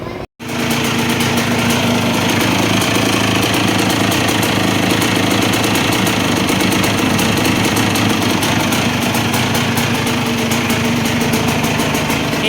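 A 2004 KTM EXC 200 two-stroke dirt bike engine runs loud and close, a buzzing, crackling idle that holds steady throughout after a short silent gap at the start.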